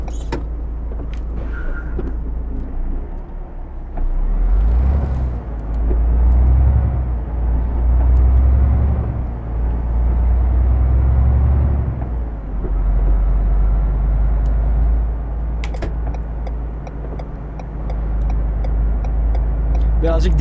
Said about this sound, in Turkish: Şu an freni kökledim, duramıyorum.